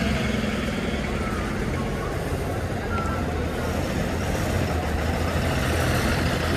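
Bus engines rumble and idle nearby at a Satara bus stand, state transport buses moving in a continuous busy din, with indistinct voices mixed into the background.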